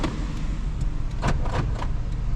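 Power door locks on a Nissan Xterra actuate with a few quick muffled clunks. The thumps are close and brief and come over a steady low hum from the vehicle.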